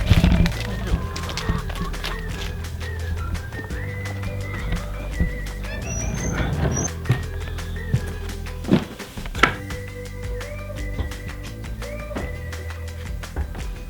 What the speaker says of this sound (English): Oh, hey there, chicken.